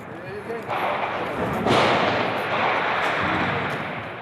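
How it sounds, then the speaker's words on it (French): A single sharp sniper rifle shot cracks out in a dangerous war zone, followed by a rolling echo that lingers and fades over several seconds in an open outdoor setting. "Tu as entendu le sniper?"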